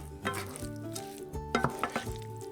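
Sauce and roasted cauliflower for a meatless kung pao sizzle in a pan while being stirred. A steady close crackle carries sharper scraping clinks near the end, over a faint tonal background.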